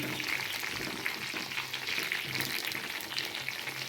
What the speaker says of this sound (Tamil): ஸோ நம்ம கத்திரிக்காய் ஃப்ரை பண்ணிட்டா